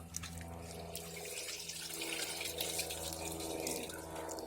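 Water splashing and trickling from wet laundry lifted out of a twin tub washing machine in a bathtub, a quiet steady pouring and dripping wash of sound close by.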